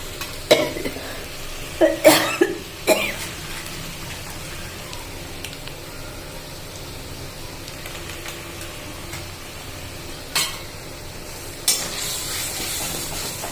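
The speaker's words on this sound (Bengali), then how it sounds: "মশলাটা একটু কষবো" Onion, chili, turmeric and spice mix sautéing in a pan for taro and prawn fritters give a soft, steady sizzle, broken by a few sharp clatters of stirring against the pan.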